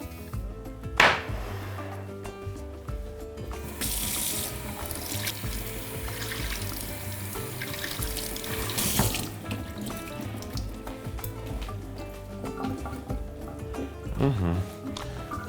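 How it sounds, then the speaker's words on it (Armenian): Coarse bulgur is rinsed under a running kitchen faucet. The tap flows steadily into the sink, turns louder and fuller for a few seconds midway, and trickles with clinks under intermittent talk. "Հոսող ջրի տակ լվանում ենք։"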